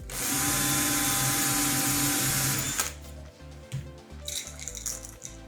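A power drill boring a hole to install a profile cabinet handle, a loud close whine held for almost three seconds before it stops, followed by quieter clicks and handling noises.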